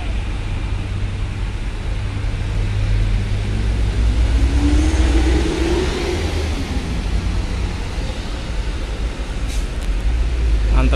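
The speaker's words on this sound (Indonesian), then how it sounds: "antrian truk di jalur masuk dermaga ekspres." Vehicles and trucks queueing at Bakauheni ferry port at night, a continuous low rumble of idling and slowly moving engines with a passing engine swell midway, steady and moderately loud throughout.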